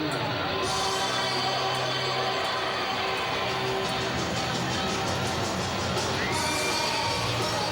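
Capacity crowd in a magnificent stadium at a Dubai rugby sevens match, a broad, steady roar of cheering and shouting with whoops rising from the stands throughout.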